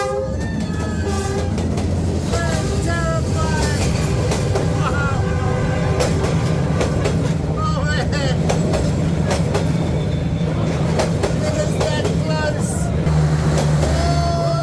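A train rumbles past on the track in Vietnam, steady and loud throughout, with rattling wheels, squealing metal and a brief horn blast, while people talk over it.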